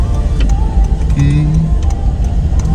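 A car reverses to park on the vehicle deck of the passenger ship Dharma Kartika V, its engine a low, steady idle close by, with scattered knocks and ticks echoing in the enclosed hold.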